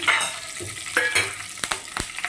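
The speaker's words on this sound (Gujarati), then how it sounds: "વઘાર માટે જીરું લીધું છે પછી એમાં બે લીલા મરચાં અને લસણ નાખીશું" Cumin, green chillies and garlic sizzle in hot tempering oil with a bright continuous crackle, punctuated by several quick clinks and scrapes of a spoon in the pan near the microphone.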